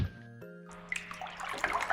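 Warm water is poured into a bowl of sourdough bread dough after salt is added, a short splashing trickle that starts faintly and turns to louder, irregular wet splashes.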